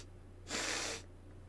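A single sharp, breathy sniff made by a human voice imitating exaggerated sniffing, lasting about half a second against a quiet background with low hum.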